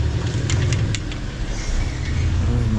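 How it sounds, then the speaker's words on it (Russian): A car drives past outside on a street, a steady low rumble heard from indoors at moderate distance, with a few brief higher clicks near the start. "машина ездит, как обычно"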